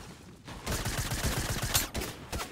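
SMG fire in Fortnite, rapid bursts of close gunshots that rattle continuously for about a second and a half, then stop with a brief pause and another short burst, loud and dense with no voices.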